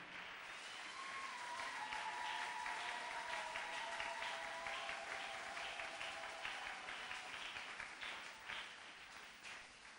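A church congregation applauds steadily for about ten seconds, a dense, even wash of many hands clapping without pause, with a sustained voice-like tone running faintly beneath during the first half.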